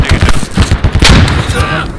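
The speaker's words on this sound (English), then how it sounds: "Did somebody just drop a grenade?" Grenade blast and heavy gunfire in a military video game, loud and close with rapid repeated cracks and booms layered together, a voice talking over the chaos.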